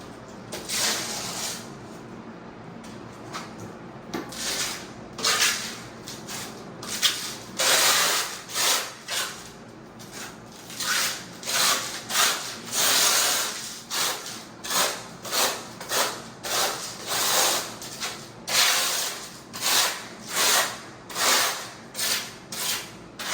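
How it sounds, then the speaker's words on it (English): A trowel spreads thinset on the back of a shower tile, a steady scraping and rasping that speeds into short rhythmic strokes, close and continuous with no talk. "All right, we're gonna back butter another."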